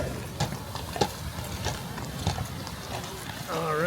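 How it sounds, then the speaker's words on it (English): Horses walk along a trail in L'Enfant Plaza in Washington, D.C., their hooves clopping in an uneven rhythm against loud outdoor city noise, with voices heard faintly underneath. "the horses are on the trail in L'Enfant Plaza"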